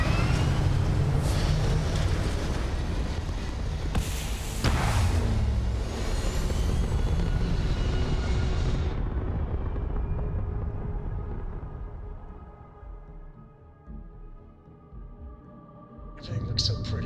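A Starfield spaceship lifts off with a loud, broad engine roar that rumbles steadily for several seconds, then thins and fades toward a quieter hum before a brief burst near the end.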